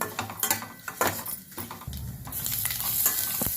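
A pinch of asafoetida hits hot oil in a pan, giving a soft sizzle under clinks and scrapes of a utensil against the metal, and the sizzle then swells into a steadier hiss.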